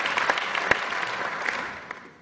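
A council meeting audience claps after a member's oath, a brief burst of moderate applause from a small room that fades out at the end.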